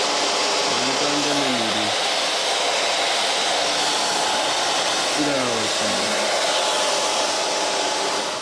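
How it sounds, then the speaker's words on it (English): A hair dryer blows loudly and continuously at close range. Its steady roar runs under brief bits of speech. "we got a special shout out to the fucking hairdryer"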